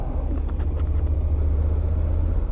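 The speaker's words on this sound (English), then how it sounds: "There's a lot of traffic about." Road traffic gives a low, steady rumble of passing vehicles while a rider is out on a Honda NC750X motorcycle, continuous and moderately loud, with no talk.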